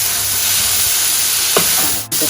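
Rice tipped into a small hot pan for turmeric fried rice sets off a steady, close, loud sizzle that holds for the full couple of seconds, with a brief clatter of stirring near the end and no voice.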